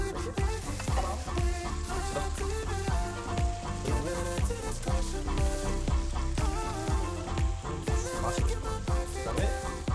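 Pork belly and mushrooms fry in a pan for Korean samgyeopsal, a steady sizzle running under loud, continuous rhythmic background music.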